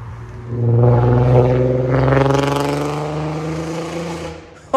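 A Porsche Cayenne V8 engine revving, a loud close deep growl that climbs in pitch and holds, then fades away, with no talking over it.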